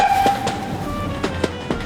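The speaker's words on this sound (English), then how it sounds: "let's see the train drive over the points. Here comes the train!" A train rolls over railway points, giving a series of rhythmic rail clicks and clacks over a steady rumble with a faint whine, heard close up with no talking.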